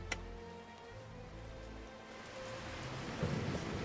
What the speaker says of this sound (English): Once again, another thunderstorm should be fine though.